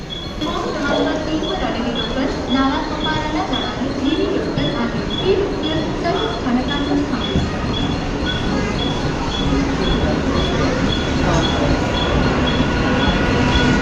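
A Mumbai local train rumbles loudly and steadily close by, with clattering wheels and a faint repeating beep, and voices talking under the noise.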